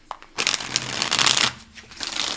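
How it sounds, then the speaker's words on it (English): A deck of tarot cards being shuffled by hand, with repeated riffling and crisp papery flutters in bursts, close and fairly loud, with a short pause before a final shuffle. "I promise you I shuffle the hell out of these cards"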